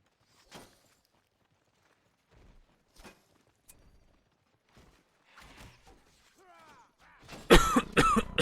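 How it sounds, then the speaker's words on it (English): A single person coughs and clears their throat a few times, close and fairly quiet, with sparse soft knocks between, before a louder burst of sharp, dense sound near the end. "coughing a bit today."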